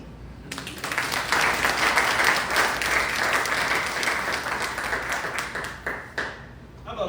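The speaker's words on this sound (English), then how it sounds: "How about another round of applause for the Brooksville Women's Club and Natalie Keller?" A crowd at a Hernando County political event applauds steadily for several seconds, many hands clapping in a dense, even wash before it tapers off.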